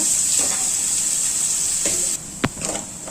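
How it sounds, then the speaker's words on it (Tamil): Onions sautéing in oil in a pan for sambar give a steady bright sizzle, then quiet down near the end with a few clinks and stirring knocks. "பாருங்க, வெங்காயம் நல்லா வதங்கிடுச்சு"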